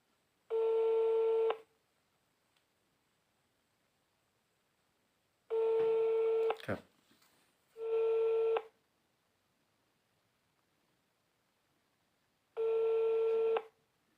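A telephone ringback tone sounds in separate one-second bursts with long silent gaps, interrupted once by a brief burst of clicks and dialing noise.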